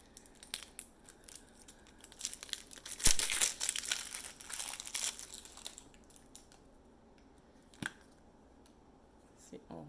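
Plastic packaging of a body-care cleanser being torn and opened by hand, with crinkling and tearing bursts, loudest around the middle and then fading to sparse rustles and one sharp crackle; a voice speaks faintly at times.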